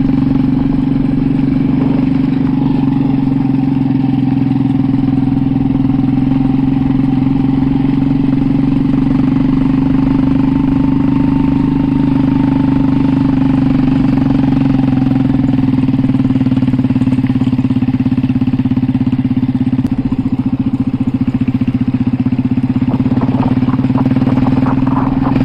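A motorcycle engine runs steadily near a hill viewpoint, a constant low drone with a rough mechanical clatter and no breaks throughout, with no talk.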